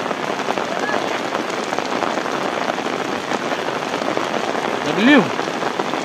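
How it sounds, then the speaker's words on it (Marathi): Heavy rain pours down over farm fields in a steady, close roar of drops hitting surfaces, with a brief voice cutting in near the end. "असा पाऊस पडतोय"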